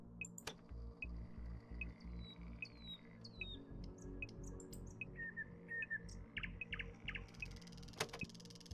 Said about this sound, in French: on entend des oiseaux, c'est le rossignol